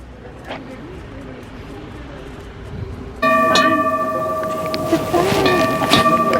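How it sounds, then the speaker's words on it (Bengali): Mountain railway train at Top of Interlaken on Harder Kulm, Switzerland: a steady mechanical hum with high whining tones grows louder partway through and continues alongside voices talking nearby. "It's not cable car but it's train."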